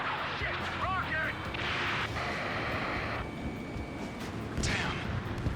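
A rocket blast in the Ace Combat 7 air-combat game gives a deep roaring rumble with a rushing whoosh, followed by further booming blasts and windy jet noise, loud and close, with a brief voice shout near the start.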